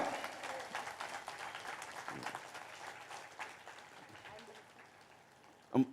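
Applause from an audience at a meditation gathering, a steady patter of many clapping hands that holds through the clip, fading somewhat near the end, with a brief louder thump just before it stops.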